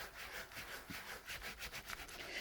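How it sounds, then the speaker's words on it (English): Fabric being rubbed between layers of 16 ply wool while covering a 3D pot: very faint, close, rhythmic back-and-forth rubbing strokes, several in quick succession, with no talk. "So I'm going to rub in between those layers of 16 ply wool."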